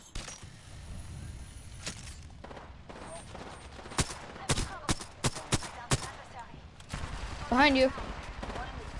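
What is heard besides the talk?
gunfire from Apex Legends video game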